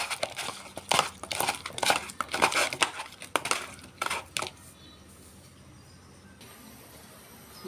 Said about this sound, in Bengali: এখন মাছটি মেখে নেব